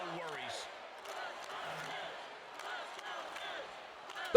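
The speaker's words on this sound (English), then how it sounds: "They're cheering for the Miz." Crowd cheering in a WWE wrestling video game for the Miz during a ladder match, a steady roar of voices held under close commentary talk.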